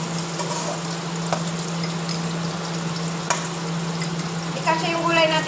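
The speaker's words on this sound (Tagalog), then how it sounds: "pagkain, niluluto pa" Food sizzles steadily in a frying pan in a home kitchen in Karachi, with a constant low hum underneath and a few light clinks and stirring sounds toward the end.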